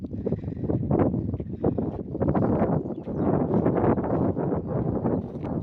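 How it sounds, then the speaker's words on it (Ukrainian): Gusty wind buffets the microphone in continuous rough bursts of low rumble and rustle, loud and close, with no talking. "Трохи вітер."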